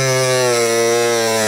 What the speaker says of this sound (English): I'm just going to take the Dremel and cut the sons of bitches off.